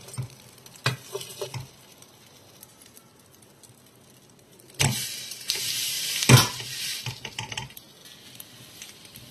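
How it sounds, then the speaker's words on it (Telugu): Egg omelette idli pieces fry in a pan over a medium flame, giving a soft sizzle with scattered scrapes and taps, a louder burst of frying partway through, then a quieter crackle. "కొంచెం మీడియం ఫ్లేమ్లో పెట్టుకొని కాల్చుకుందామండి"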